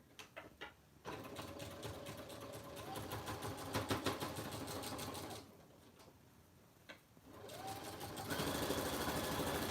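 A sewing machine stitches oven mitts in long, steady runs of rapid needle chatter. It pauses briefly between bursts and speeds up near the end, close and fairly quiet with no talking.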